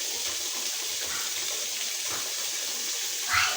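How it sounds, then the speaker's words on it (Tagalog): Tap water runs steadily into a container to test an action cam case for leaks, a continuous close hiss and splash, ending with a short burst of louder gushing. "Punuon sa nato ng tubig."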